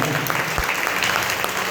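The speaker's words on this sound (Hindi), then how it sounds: "एक बार सभी तालियां और बजाने अनुमोदना करेंगे" Applause from an audience at a religious school gathering honoring two singers, a steady dense wash of clapping with no distinct individual claps standing out.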